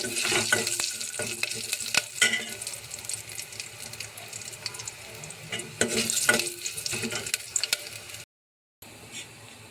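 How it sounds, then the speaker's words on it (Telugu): Garlic, green chillies, curry leaves and cumin seeds fry in hot oil as a tempering for mango dal, giving a steady crackling sizzle with stirring clinks, then a brief cut to silence. "పోపులు వెల్లుల్లి బ్యాగులు వెల్లుమిర్చి కరివేపాకు జీలకర్ర అయితే వేసుకున్నాను పోపు"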